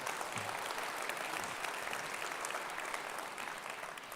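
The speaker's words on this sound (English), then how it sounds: "Let's give her a round of applause" Faint, continuous clapping from a conference audience at a political party's spring gathering, an even wash of many hands that eases off slightly toward the end.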